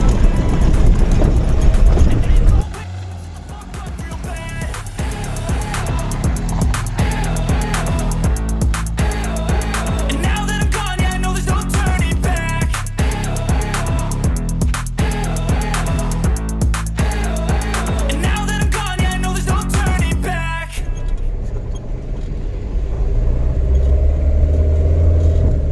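A Tata Indica car engine strains loudly and steadily while climbing a steep hill road in low gear, a continuous heavy drone with no talking.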